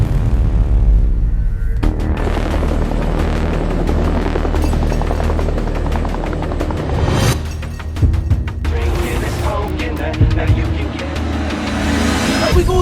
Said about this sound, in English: So hanging out of that helicopter, like we rented a small helicopter for like an hour.